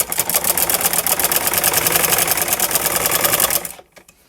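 A sewing machine stitches a salwar cuff close to buckram, running in a loud, fast, even mechanical rattle for several seconds before stopping abruptly.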